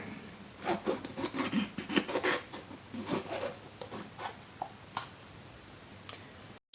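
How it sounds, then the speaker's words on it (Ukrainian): Thick-walled Lumos bell pepper sliced with a knife, giving a run of close, crisp crunching and rubbing strokes with short pauses, alone without talk. "буду різати і показувати вам е, стінки цього перцю"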